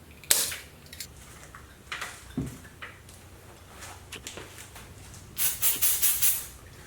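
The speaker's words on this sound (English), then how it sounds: "Carburetor brake cleaner is good for this because it will evaporate." Carburetor brake cleaner sprayed from an aerosol can onto Trek FX 7.2 bike handlebars: scattered sharp hisses and clicks, then a quick series of five or six short spray bursts near the end, close by.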